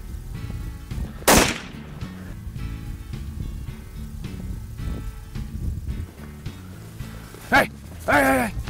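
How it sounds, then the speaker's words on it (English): A rifle fires during a South African buck hunt, one sharp crack early on followed by outdoor rustling and people talking, with a later bang and a dog-like cry near the end. "Hey Jake, you just shot a Gims buck."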